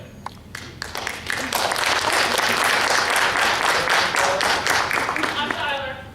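Audience applause erupts after a few scattered early claps, swelling into a full, loud round of many hands that holds steady and then tapers off, with brief voices near the end.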